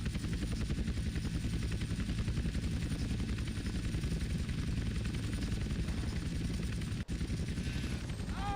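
Helicopter rotor in GTA San Andreas Definitive Edition, a continuous dense chopping drone that holds steady and loud throughout, with one brief sharp click near the end.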